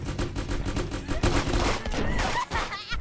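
A turret keeps up steady, dense automatic gunfire in the video game Friends Vs Friends, a loud, continuous rattle of shots mixed with other game effects throughout.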